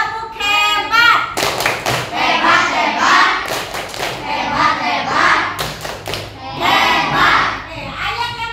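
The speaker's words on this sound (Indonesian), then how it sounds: "Tepuk hebat ya, kasih tepuk hebat ya." A group claps a rhythmic patterned cheer in a classroom setting, sharp hand claps in short bursts alternating with children's voices chanting along.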